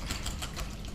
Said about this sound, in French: Je fouette.